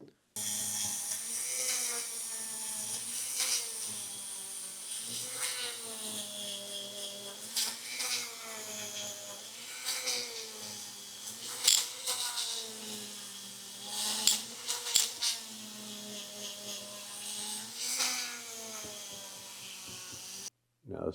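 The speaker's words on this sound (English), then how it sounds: "I'm going to go ahead and use my Dremel to buff this entire piece out." A Dremel rotary tool buffs a camshaft piece, producing a whining high-pitched spin that rises and falls in pitch as it is pressed and eased, with sharp scraping bursts at intervals over about twenty seconds.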